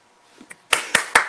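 Three sharp hand claps ring out close and loud in quick succession, spaced roughly a fifth of a second apart, preceded by a couple of faint softer taps.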